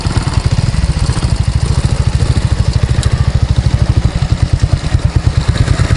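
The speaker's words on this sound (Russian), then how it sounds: "Это ж китайский мопед." A small Chinese moped engine runs steadily with a fast, even putter, close and loud throughout, as the rider goes through a puddle.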